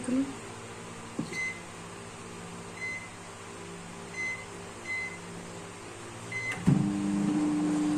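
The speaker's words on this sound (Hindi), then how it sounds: "तो जी हम जल्दी से ओवन को नीचे स्विच लगा देते हैं, क्योंकि टाइम ज्यादा हो गया।" A kitchen oven switched on for baking runs with a steady low electrical hum, a few faint beeps scattered through, and a louder tone starting near the end.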